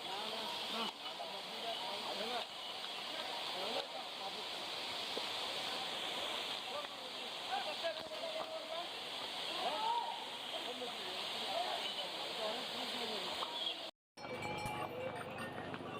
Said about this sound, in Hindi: केदारनाथ ट्रैक पर आपको ऐसे सुंदर दृश्य और झरने देखने को मिलेंगे।